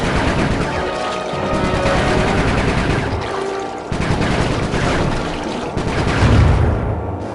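Shooting in the video game Sly 3 roars as dense, loud volleys over a constant booming wash, with rapid overlapping shots and occasional heavier blasts.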